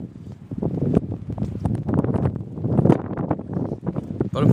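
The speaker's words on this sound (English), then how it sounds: "It's still windy as hell," Strong wind gusting and buffeting the microphone, a loud continuous roar with rushing surges throughout.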